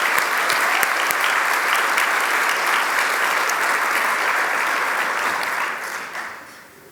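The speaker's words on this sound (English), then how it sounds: "you can clap now for Jason" Applause at an awards ceremony: a large audience clapping steadily and evenly for several seconds, a dense wash of hands that fades out near the end.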